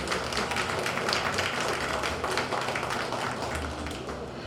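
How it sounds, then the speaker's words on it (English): A fair crowd at the Caldwell County Agricultural Fair claps steadily for young calf showmen, a dense and sustained round of applause with scattered individual claps, loud and close, without speech over it. "Let's give these youngins a big round of applause out here."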